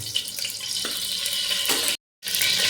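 Hot oil spitting and sizzling in a pan as a tempering (vaghar) is started for a Gujarati stuffed brinjal-potato curry. The sizzle is steady and close, with soft stirring clatter, then a sudden brief dropout before the frying noise resumes.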